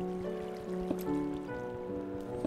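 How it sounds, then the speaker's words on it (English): Water flows in a stream in Minecraft, a soft continuous trickling with occasional drip-like plinks, steady and fairly quiet. "there's another stream of water here"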